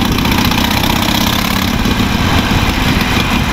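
A Harley-Davidson Iron 883 cruiser motorcycle engine runs steadily and loudly up close, a continuous low throbbing rumble with no pauses.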